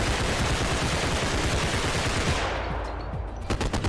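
Rapid automatic gunfire in a realistic first-person shooter game, a dense loud burst of shots that fades near the end into a few scattered cracks.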